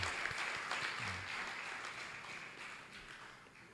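Crowd at a lecture event in India giving a round of applause for a speaker, dense sustained clapping that gradually fades, with faint low murmurs underneath.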